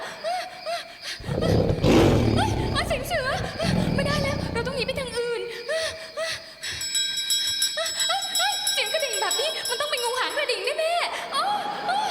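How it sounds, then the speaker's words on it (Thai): An elephant trumpets loudly in a northern Thailand forest scene on a comedy variety show, giving several blaring roars mixed with talking voices and ringing bell-like tones. "เสียงช้าง"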